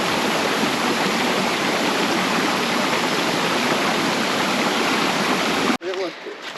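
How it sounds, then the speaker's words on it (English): A small waterfall at Mathinna Falls in Tasmanian wilderness roars as a dense, steady rush of falling water close by, then cuts off abruptly to quieter outdoor sound near the end. "super awesome little waterfall"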